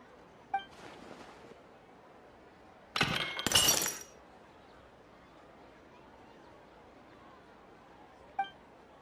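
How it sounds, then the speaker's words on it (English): A vase shatters in the video game Genshin Impact, a sharp burst of breaking glass and ceramic lasting about a second. Faint chimes sound before and after it over a quiet ambient background, with no speech. "Did someone break it while they were cleaning the room or something?"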